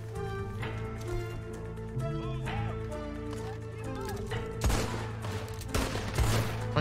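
Rapid gunfire in the Red Dead Online video game on PC, several sharp shots fired in quick bursts over horse hooves and background music, with players talking throughout.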